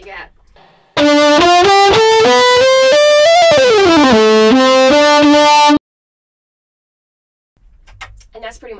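A flute played through a multi-effects pedal's distortion preset makes a loud distorted, buzzy melodic line for about five seconds, notes stepping and sliding, with brief quiet talk before and after.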